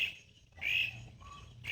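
Outdoors, a bird gives a few faint high chirping calls over a quiet background with a low hum.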